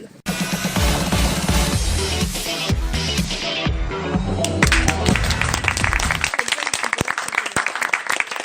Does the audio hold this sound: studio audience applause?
yes